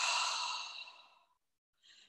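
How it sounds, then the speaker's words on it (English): A long, breathy exhale through the mouth during a guided breathing exercise, fading out slowly, followed after a pause by a short, soft second breath. "And exhale through your mouth."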